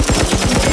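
Gunfire from guns in Dysmantle, a tight rapid string of loud shots in quick even rhythm, like a short machine-gun burst.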